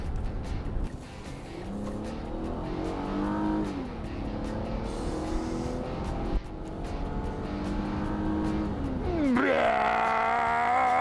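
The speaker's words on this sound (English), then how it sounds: "It does pull very nicely, Jonathan. Yeah, a lot of power. A lot of torque" An all-wheel drive car accelerates hard, its engine note climbing through the gears with a sharp rising rev near the end; the engine stays loud and close throughout with no talk.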